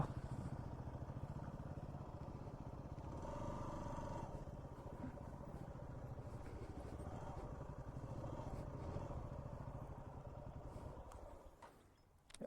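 A motorcycle engine runs steadily at close range on a rural village road for about twelve seconds, a continuous mid-pitched rumble with some clatter, before the sound drops off near the end.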